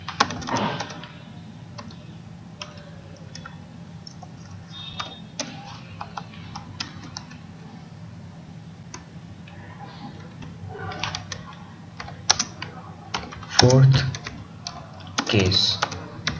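Scattered clicks of a computer keyboard come as C code is typed, sparse and irregular with a few louder bursts near the end, over a low background hum.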